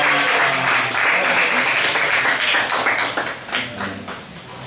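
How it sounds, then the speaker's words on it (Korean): A church congregation at a Sunday service bursts into warm, dense applause in welcome, then the clapping thins and fades toward the end. "박수 환영하겠습니다."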